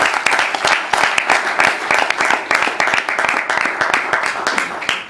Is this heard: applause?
yes